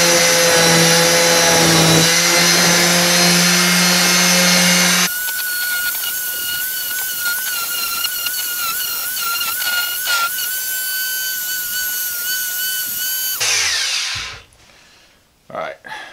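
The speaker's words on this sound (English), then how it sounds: "So let me continue finishing buffing this out." A power buffer steadily works the wooden handle of an 18-inch Tramontina machete, first with a loud high whine, then with a lower continuous grinding drone, before it spins down and stops.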